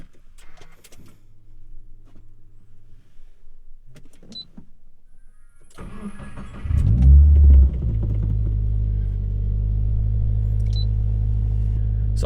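After a quiet stretch with faint clicks and a power window whirring, a car with a newly fitted GrimmSpeed blow-off valve starts on a cold first start. It flares loudly, then settles into a steady, rumbling idle close by.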